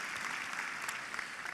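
An audience at a University of Maine undergraduate commencement ceremony in Orono claps steadily, a dense, even wash of applause from a large crowd with no voices on top.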